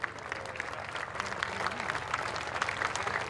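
Steady, dense applause from a crowd at a government housing handover ceremony with officials on stage, continuous and fairly loud throughout, with no talk over it.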